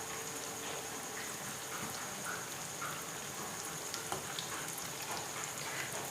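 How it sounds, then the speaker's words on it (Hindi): Ghee spooned over chicken cutlets frying in a pan gives a steady, soft, close sizzle with faint crackles and pops throughout, no voices present. "तो अब थोड़ा थोड़ा इसके ऊपर घी डालेंगे इस तरीके से"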